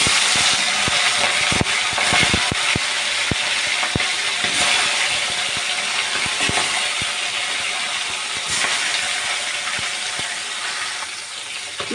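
Fish heads frying in hot mustard oil in a wok, a steady loud hiss dotted with sharp crackles and pops throughout.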